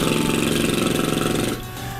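A voice imitating a low engine-like growl by buzzing and vibrating the lips, a beatbox lip oscillation that rattles steadily for about a second and a half before dropping off; close and loud, no talking.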